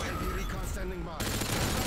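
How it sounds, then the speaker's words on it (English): Heavy automatic gunfire from an AC-130 gunship in the game MW2 Remastered, a continuous rattling barrage filling the whole moment. "Dude, even the AC-130 feels good on this game"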